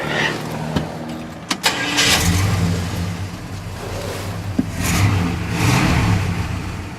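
A car engine cranks and catches after a few sharp clicks, then runs loudly close by with a couple of swelling revs as the throttle is blipped.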